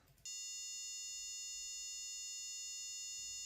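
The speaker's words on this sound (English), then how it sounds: "Great, the buzzer's working." An Arduino Awesome Shield buzzer gives one steady, shrill electronic tone that starts abruptly and holds for about three seconds, clear and alone.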